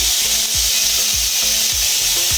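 Chopped carrots and beans frying in oil with ginger and whole cumin in a pan, a steady broadband sizzle with rhythmic scraping strokes of a spatula about every half second, close and loud.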